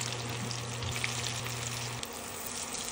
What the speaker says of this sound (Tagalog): Sunod, magprito na tayo ng talong.